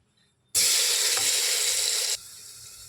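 A sudden loud sizzle bursts out as garlic paste hits hot oil, hissing steadily for about a second and a half before dropping to a quieter frying hiss.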